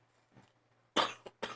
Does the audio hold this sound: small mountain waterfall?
no